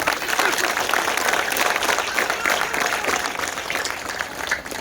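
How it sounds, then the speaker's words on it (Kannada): A crowd at an outdoor awareness gathering claps loudly and steadily for several seconds, the applause dense and sustained with some voices mixed in. "ಒಪ್ತಿರ ನನಗಿದ್ರೆ ಒಂದು ಜೋರಾಗಿ ಚಪ್ಪಾಳೆ ಮುಗಿಡಿ"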